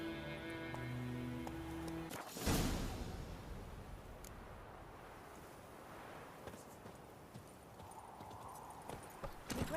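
Hooves of Roach, the horse in The Witcher 3, clip-clop steadily at close range, with a short music phrase at the start and a burst of rustling, no talk.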